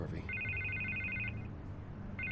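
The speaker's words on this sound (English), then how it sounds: "I can't get the phone to stop ringing" A telephone rings in two bursts of bright electronic trilling, the second starting after a short pause, over a low background hum.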